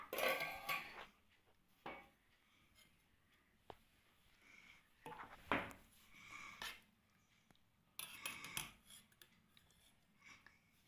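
A lid is lifted off a pot holding rose petals steeped in boiled water, with scattered clinks and scrapes of metal cookware, sharp and close, separated by quiet gaps.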